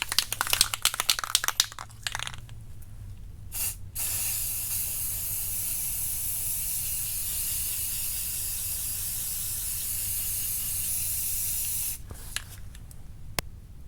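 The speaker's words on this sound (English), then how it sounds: "Now I'm finna spray this." Spray primer hissing from a can onto a Chevy car body, a few short bursts followed by a long steady close hiss of about eight seconds, then more brief sprays.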